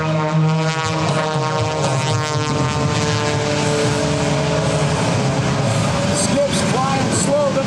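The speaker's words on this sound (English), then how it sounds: "Skip Stewart coming in low" Aerobatic airplane making a low pass at a US airshow, a loud steady propeller engine drone with a shifting pitch, heard alongside crowd noise and commentary.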